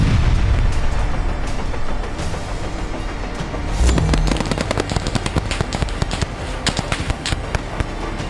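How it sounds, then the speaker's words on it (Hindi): Heavy gunfire and shelling on the Russia-Ukraine front, with a dense roar of blasts in the first half and then rapid, loud crackling bursts of automatic fire continuing to the end, with no voices. "ताबड़तोड़ गोलाबारी शुरू हुई"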